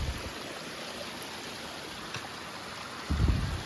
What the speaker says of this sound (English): There's another side stream that's like brown.